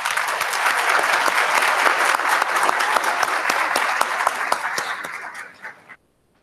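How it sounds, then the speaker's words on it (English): Sustained crowd applause at a 2018 high school academy graduation commencement ceremony in an indoor hall, dense clapping that swells, then fades and stops abruptly near the end. "with a round of applause"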